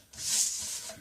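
A scoring tool drags along navy cardstock one inch from the edge, giving one short, close, dry scraping stroke that lasts about a second, with nothing else heard.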